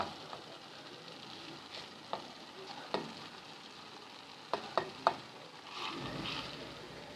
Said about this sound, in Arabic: ابتدي انزل باللحمه دلوقتي، اللحمه المفرومه.